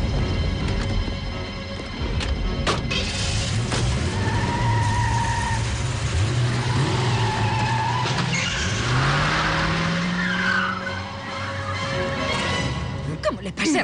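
Cars speed and skid through a movie chase, engines roaring and revving loudly in sweeping surges with tire noise, while voices shout over the action.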